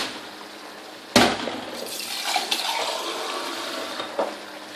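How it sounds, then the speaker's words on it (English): Water pours steadily into a cooking pot of yam porridge after a sudden clatter, a continuous rushing splash lasting several seconds with small knocks along the way. "And you add water."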